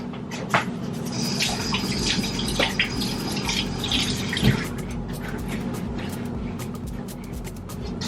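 Tap water runs steadily while a pepper is rinsed out, a close continuous splashing hiss with a few knocks and clatters on top.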